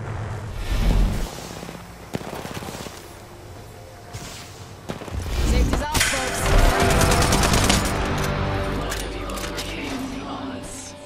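Rapid video game gunfire in a team shooter match crackles in dense automatic bursts and scattered single shots, loud and close, with a few heavy booms and occasional voice callouts mixed underneath.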